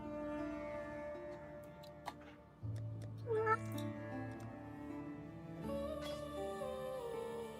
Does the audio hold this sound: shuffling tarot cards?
no